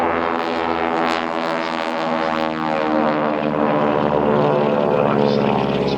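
A propeller aircraft flies past at a Duxford autumn air display, its engine a loud, steady drone with harmonic whine throughout, rising and falling slightly as it passes at speed.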